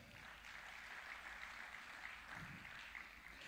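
Church congregation applauding during a Sunday service, a steady wash of clapping that holds evenly across the whole stretch at moderate, somewhat distant level with no talk over it.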